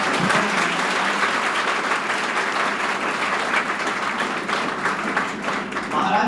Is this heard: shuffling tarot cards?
no